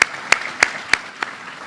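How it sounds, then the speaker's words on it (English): Conference audience applauding, with a few distinct loud claps standing out over a steady wash of clapping from the crowd. "And so I want to give a round of applause to all the governor's team."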